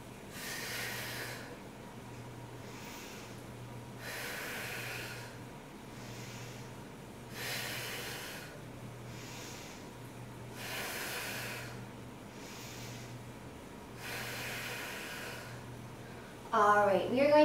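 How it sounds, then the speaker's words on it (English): Slow, deep breaths during a yoga session, with soft inhales and exhales repeating in a steady cycle every few seconds. The breathing is close and gentle, and a brief sharper sound comes at the end. "Few deep breaths here."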